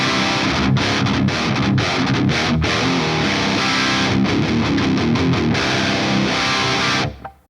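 A Mesa Triple Rectifier amp with its presence raised puts out a dense, heavily distorted metal guitar tone, with fast palm-muted chugging riffs played loud and continuous, then cut off abruptly at the end.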